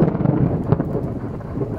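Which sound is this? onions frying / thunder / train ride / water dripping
thunder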